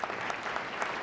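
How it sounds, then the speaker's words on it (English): An audience at a Lenovo Transform event claps in a dense, steady burst of applause, close and even throughout the short stretch with no talking. "So a big round of applause for our team from Europe."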